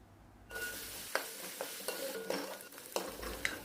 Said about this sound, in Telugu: కొద్దిగా కరివేపాకును కూడా వేసుకుని వేగనివ్వాలి.